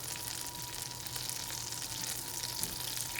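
Pecan coffee cake topping mixture cooking in a pan, giving a soft, continuous sizzle and crackle that holds steady throughout with no talking.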